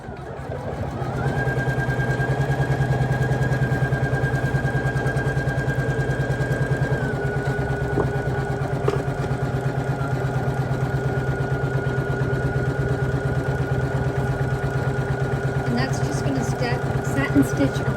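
A computerized embroidery machine stitches a gold-thread Mardi Gras appliqué design onto a sweatshirt, making a steady, continuous mechanical whir with a constant drone for the whole stretch and no pauses.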